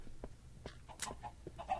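Several short clucks from chickens in Minecraft, scattered bursts over a low background hum with a brief squawk near the middle, moderately faint.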